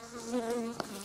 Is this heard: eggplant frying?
no